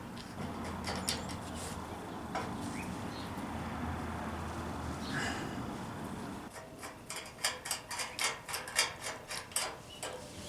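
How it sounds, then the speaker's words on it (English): A hand nutsert tool is squeezed to crimp a rivet nut insert into a hole on an AE86 side skirt, a run of quiet clicking and ratcheting that turns into a burst of sharper, rhythmic metallic clacks near the end. "You're going to stick that into the hole, crimp these together, and sometimes it takes more than one shot at it."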